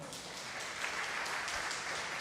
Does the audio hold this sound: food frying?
no